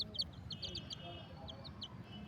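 Soft, scattered clucks and chirps from chickens, fairly quiet and close, with a low rumble underneath.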